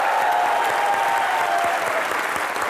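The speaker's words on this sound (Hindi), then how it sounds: "जोरदार तालियां बनती हैं।" A studio audience at a comedy talk show claps loudly and continuously, a dense, steady wash of applause with a faint murmur of crowd underneath.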